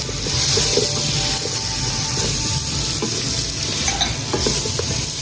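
Cubed onions and capsicum fry in a pan for chicken Manchurian, making a steady, close sizzle with faint stirring scrapes and a watery hiss underneath and no voices.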